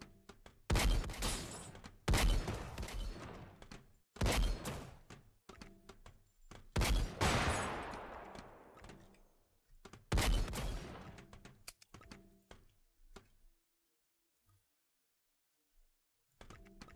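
A launcher weapon in a PC first-person shooter fires in a series of loud, heavy blasts, each trailing off into a roar, with clicks and thumps between them and a quiet stretch near the end.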